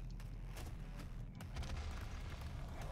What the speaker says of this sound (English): I hear a lot of explosions.